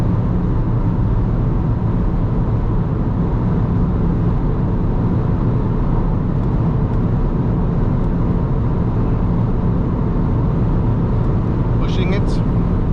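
An Alfa Romeo MiTo at full throttle near its top speed of about 170 km/h on the Autobahn, with a steady, loud engine and road drone that holds without a break throughout.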